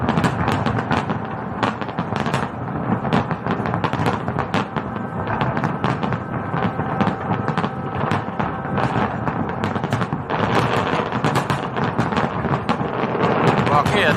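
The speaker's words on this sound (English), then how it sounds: "Fireworks are going." Fireworks go off in a dense, continuous barrage of loud bangs and crackles that fill the whole stretch with booming, sharp pops and no quiet gaps.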